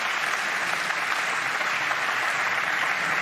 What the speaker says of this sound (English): We've got a big crowd here to show their appreciation